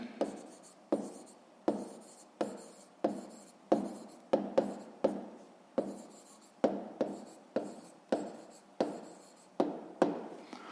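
A pen writes out a math solution on paper in steady, close strokes, each a short scratchy stroke repeating roughly once a second, with no one talking.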